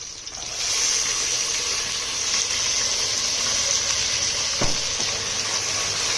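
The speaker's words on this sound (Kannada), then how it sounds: "ಈಗ ಅವರೆಕಾಳು ಹಾಕ್ತೀನಿ" Hyacinth beans (avarekalu) frying in a softened tomato-onion tempering on a high flame give a steady close sizzle with faint stirring scrapes, and no voices.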